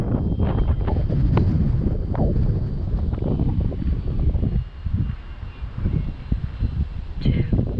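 Strong wind gusting up to about 19 miles an hour buffets the microphone in loud, roaring bursts that ease briefly and then surge again, at a model airplane flight.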